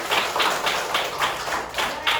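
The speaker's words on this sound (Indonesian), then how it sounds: "Tepuk tangan dulu untuk kita semua" Fifth-grade primary school pupils clap together in a classroom, a series of rhythmic bursts of many hands at a steady pace, moderately loud and close, with no talking over it.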